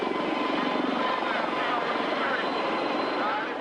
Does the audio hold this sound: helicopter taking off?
yes